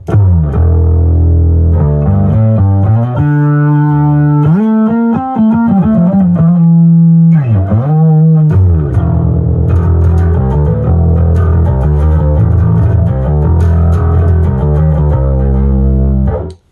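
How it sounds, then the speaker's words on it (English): A bass guitar played through a distortion pedal plays low, gritty sustained notes and slides, loud and close, with a thick fuzzy tone. "this is pretty much my dirty tone right here"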